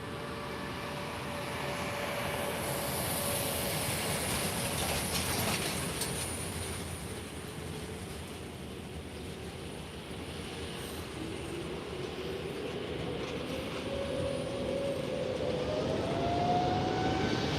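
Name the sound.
Airbus A321 airliner taking off at Lisbon airport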